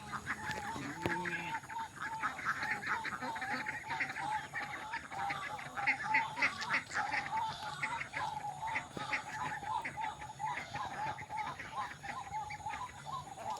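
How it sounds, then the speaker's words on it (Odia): Small ducklings at a rural home quack and peep in a busy, continuous chatter, with other fowl clucking nearby and a voice faintly in the background. "ଏବେ ଦେଖ ଏଇ ସାନ ବତକ ଗୁଡ଼ା"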